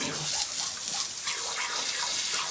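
Water is poured into a drinking container for goats, a continuous splashing gush that stays fairly quiet and steady throughout, with no other sounds standing out.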